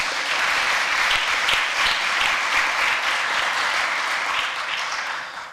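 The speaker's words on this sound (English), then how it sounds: "Yeah, that's worth clapping for if you want to do that." A church audience at a Christmas concert breaks into steady, full applause that holds evenly for several seconds before tapering slightly at the end.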